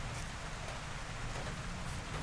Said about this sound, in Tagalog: Umuulan na pa naman.